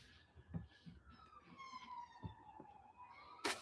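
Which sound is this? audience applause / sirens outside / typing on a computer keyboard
sirens outside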